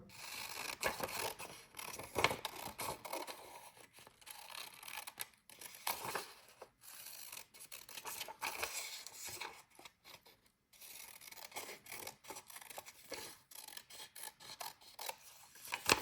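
Scissors cutting fabric at the waist of a skirt, a faint, steady run of soft snipping and rasping with brief pauses, close and quiet, without talk.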